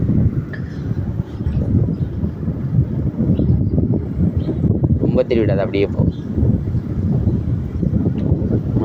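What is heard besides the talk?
wind blowing outdoors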